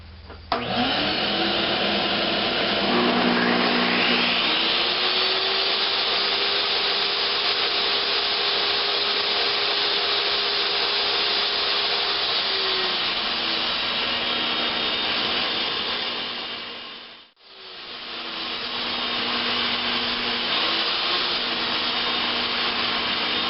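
A Ridgid miter saw rips 2x8 lumber into 2.5-inch legs, a loud steady whining cut that runs for about twenty seconds, dips briefly near the end, then resumes alone.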